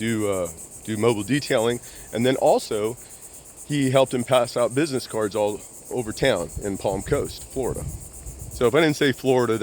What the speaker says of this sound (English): That's why if you hear like cicadas going in the background